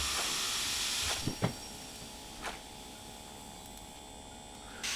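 Train brake hissing on a steam locomotive in the video game Derail Valley, a steady airy hiss running the whole time with a few brief knocks and clunks, then a sharper burst of hiss at the end.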